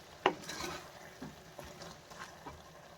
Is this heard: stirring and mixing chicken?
yes